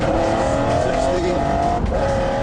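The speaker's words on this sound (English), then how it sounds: "The car can accelerate like nothing else in the world." A supercar with a top speed of 240 mph accelerating hard at speed, a loud close engine roar with rising tone that dips briefly before climbing again.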